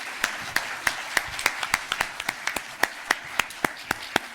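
Scattered, distinct hand claps from a conference audience applauding a panel, individual sharp claps in an uneven rhythm rather than a full roar.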